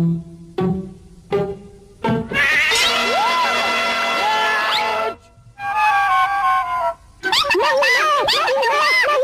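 Cartoon cat from Chip 'n Dale's Nutty Tales meowing and caterwauling in loud, wavering cries, set among short hits and clanks in a busy animated scene.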